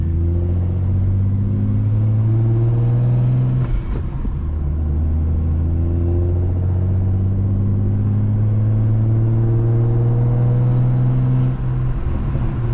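A single-turbo BMW N54 335i engine on a gentle test drive, a steady, loud, low drone that holds its pitch with only slight shifts throughout.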